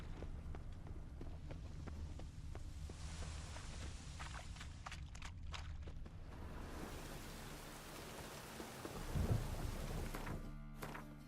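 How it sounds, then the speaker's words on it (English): Rain falls steadily in The Witcher 3 with low thunder rumbling underneath, a soft continuous wash at moderate distance that grows briefly louder near the end. "Call this rain? You've clearly not seen true precipitation."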